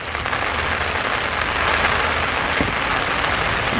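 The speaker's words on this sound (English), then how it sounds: "Rain's coming down really good now. Really hard." Dense, steady hiss of heavy rain pouring down, loud and continuous throughout with no pauses or voices.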